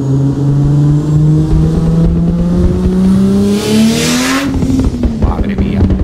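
In the Assetto Corsa racing game, a 900 hp GTR's engine drones and climbs steadily in pitch, then shifts and keeps pulling. The sound is loud and near, with someone speaking over it.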